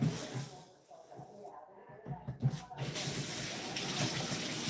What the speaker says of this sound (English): I'm gonna wash it with warm water.